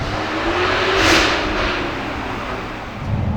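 A Jaguar F-Type P450 with a supercharged V8 roars past at speed, swelling and fading as it passes, a continuous loud rumbling growl.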